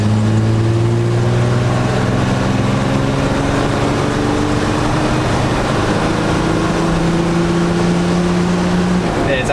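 A naturally aspirated Nissan Patrol TD42 diesel 4x4 accelerating in third gear from 40 km/h, its engine drone rising steadily in pitch as it pulls, heard from inside the cab under constant road and wind noise.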